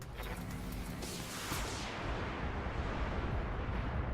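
Mech weapons firing in the tactical game BATTLETECH, a dense barrage of booming launches and blasts that rolls on continuously, heavy and rumbling with no talking.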